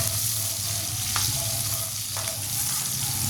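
Ginger frying in a pan of oil for a banana-blossom coconut-milk dish: a loud, continuous sizzle close by, with a couple of brief utensil taps, with no talking.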